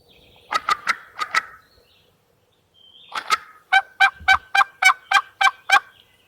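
Wild turkeys gobble close by outdoors, two loud bursts of rapid rattling calls separated by a short silence, the second longer and more insistent.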